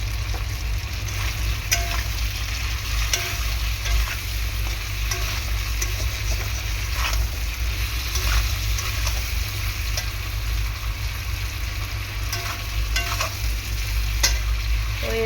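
Greens, sweet potato and papaya fry in a little oil while being stirred, giving a steady, close sizzle throughout with scraping stir strokes and clicks from the pan, with no voices.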